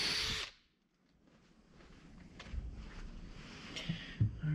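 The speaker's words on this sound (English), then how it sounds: "I'm gonna go grab the drills. The drill and the drill bits" A power drill bores bolt holes through a doubled-up wooden deck beam and blocking on a wooden boat build, with a steady grinding whir that rises toward the end, near and alone.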